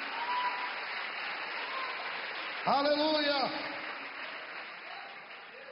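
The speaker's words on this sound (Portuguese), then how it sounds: "Pode aplaudir a Jesus." Church congregation applauding during a Portuguese-language sermon, a short burst of clapping rising briefly in the middle while someone speaks loudly over it.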